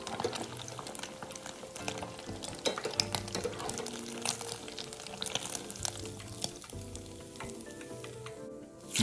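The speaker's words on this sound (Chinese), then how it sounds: "豆腐油炸至金黄色后会变轻，接着浮起油面" Otak-otak tofu deep-frying in hot oil, a continuous crackling sizzle with faint bubbling and occasional soft stirring clicks, close and fairly quiet throughout.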